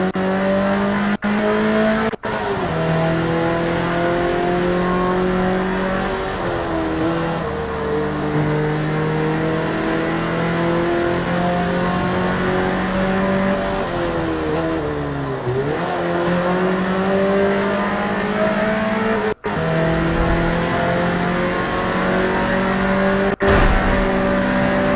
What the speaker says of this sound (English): Oh, listen to that car.